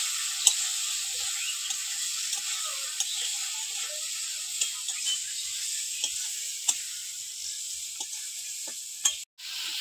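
Small field-caught crab pieces sizzle in spiced oil in a pan, a steady hiss with occasional light clicks and scrapes of stirring throughout.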